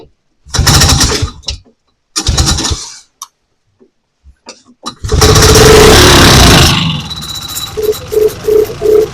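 Vintage snowmobile engine on choke for its first start of the season: repeated loud cranking bursts that sputter and die, then the engine catches and roars for a couple of seconds before settling to an uneven idle with short blips.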